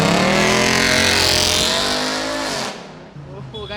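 A supercar on a racetrack revs loudly while drifting, its engine howling near and strong with tyre squeal before the roar drops off sharply; voices talk over the noise.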